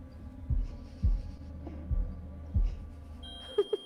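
Heartbeat in the horror video game The Devil in Me: four deep, muffled thumps at an uneven, slowish pace, followed by a couple of brief higher clicks at the end.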